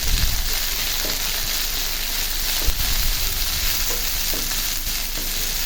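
Fresh coriander leaves fry in a pan for a Bangladeshi dhonia pata bhorta, a dense steady sizzle with a few soft stirring knocks, close and even in level.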